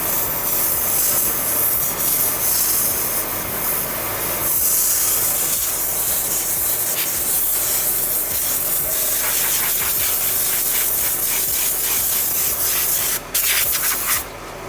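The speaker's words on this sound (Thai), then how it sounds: "ขอเป่าแรงๆแต่จับไว้ให้มันหมุน" Strong, continuous blast of compressed air from a blower cleaning a Honda car cabin air filter, hissing steadily, with a brief dip near the end before the rushing air resumes.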